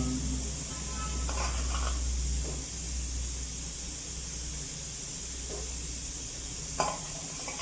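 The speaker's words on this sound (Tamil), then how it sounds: "காணாங்கத்தை மீனை போட்டுக்கலாம். குழம்புக்குள்ள குளிக்க விடலாம்." Cleaned mackerel pieces dropped into a simmering fish curry in a pot, giving a steady bubbling sizzle with a few soft splashes and stirring clinks, close and moderately loud.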